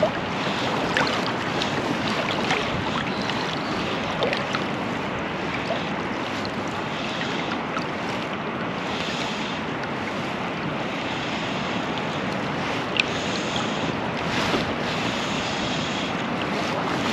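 Strong, gusty wind roaring loudly and continuously beside the River Findhorn, buffeting the microphone with a dense, steady rush and occasional bumps, with rushing water beneath.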